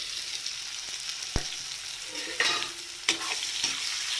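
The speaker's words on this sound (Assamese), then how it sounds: "এতিয়া মই ইয়াত এয়া চিকেনখিনি দি দিম।" Chicken frying in a pan gives a continuous loud sizzle, punctuated by a few sharp clinks and scrapes of a spatula as it is stirred.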